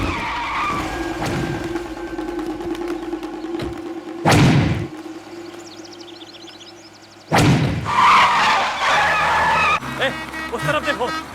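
A car braking hard and skidding to a stop, with two loud tyre screeches about three seconds apart over a rumbling engine in an action film scene.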